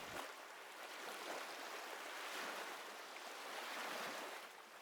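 Ocean waves wash steadily against a shoreline, a continuous broadband roar of surf with gentle swells in intensity, heard alone without voices.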